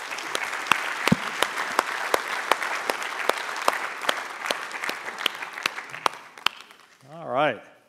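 Conference audience applauding a panel, a steady wash of clapping with sharp louder claps standing out, tapering off before a voice speaks over the end.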